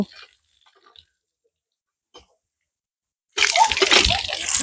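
Near-silence, then water pumped from a hand tubewell abruptly gushes out loud and steady, splashing continuously for the last second or so.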